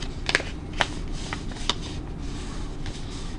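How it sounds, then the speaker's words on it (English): Paper being folded and creased along a pencil line during mask-design drawing, heard as a few crisp crackles and sharp pressing snaps over a steady quiet background hiss. "Use the top and fold it to your other little pencil line and crease that."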